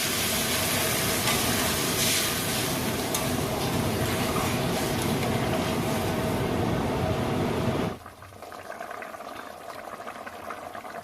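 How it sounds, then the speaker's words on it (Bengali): Water for cooking katla fish churns at a rolling boil in a pot, a steady dense bubbling hiss that cuts off abruptly near the end and leaves a quieter simmer. "জলটা খুব ভালোভাবে ফুটে গেছে"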